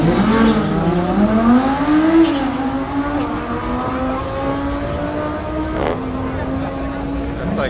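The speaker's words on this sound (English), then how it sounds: "On to race this 20 valve, but he lost first gear, so now he's gonna try second gear." A 20-valve Golf with no first gear launches down a drag strip in second, its engine note climbing steadily and loud while other engine noise and crowd voices carry underneath.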